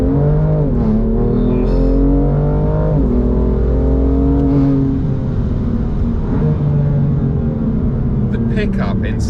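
A manual BMW M2 Competition accelerates hard through its gears, the engine note climbing and then dropping at each shift, roughly twice. The engine is loud and close, and a voice talks over it.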